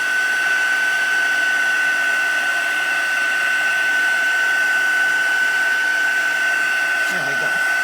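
A heat tool blows steadily on curled watercolour paper, a loud continuous whirring hum with a high whine, unchanging throughout and heard close.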